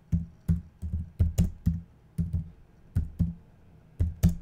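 Keys clatter on a computer keyboard as a text prompt is typed into a design tool, coming in close, uneven bursts of taps with short pauses between words, alone with no voice.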